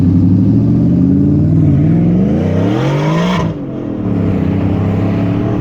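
A supercharged Ford F150 and a Genesis race past close by, a loud engine roar rising in pitch as the vehicles approach, then dropping sharply as they pass and pull away.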